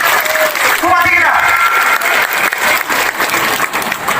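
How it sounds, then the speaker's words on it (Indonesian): A crowd at a Maulid Nabi gathering claps in sustained applause, loud and continuous, while a voice speaks briefly over the clapping near the start. "Tepuk tangan untuk bupati kita."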